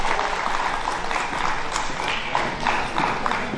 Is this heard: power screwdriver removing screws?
no